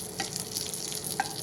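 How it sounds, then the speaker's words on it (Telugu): Chicken chilli garlic sizzling and frying in a pan, a steady close hiss with a couple of brief stirring clinks, no voice over it. "ఇంకా ఫ్రై అవనిద్దాము బాగా బ్రౌన్ కలర్"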